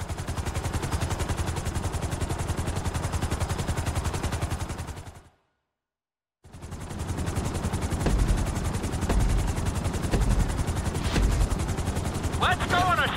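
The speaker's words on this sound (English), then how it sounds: "we'll see how well you handle the chopper" Helicopter flying in Grand Theft Auto 5 on PS5, a loud continuous rotor chop with a dense beating pulse, briefly cutting to silence midway before resuming with some sharp bursts over it.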